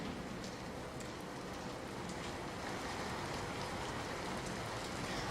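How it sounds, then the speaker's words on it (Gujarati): Steady monsoon rain pours down across Gujarat, a dense, even roar of drops on surfaces that continues unbroken and fairly faint, with no voices. "વરસાદી માહોલ રાજ્યમાં છવાયો છે"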